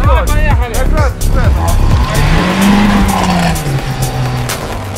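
A VAZ 2107 4x4 drives off-road with a loud, close engine that revs and strains, rising and falling in pitch, joined by tire noise as it pushes through rough ground. Voices talk over the engine.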